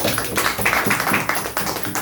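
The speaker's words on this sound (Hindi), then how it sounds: "जोरदार तालियां होनी चाहिए" Audience applause at a business seminar, quick irregular claps forming a moderately close, steady patter for a couple of seconds with no talk over it.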